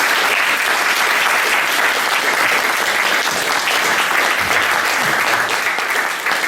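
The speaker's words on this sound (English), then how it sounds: "Please give a big round of applause for the musician, the rapper." A talk audience applauds a rapper with loud, sustained clapping that fills the room at an even level throughout.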